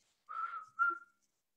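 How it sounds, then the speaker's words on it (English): Two short whistles, one after the other, faint and clear against silence, the second briefer than the first. "Double whistle and then go."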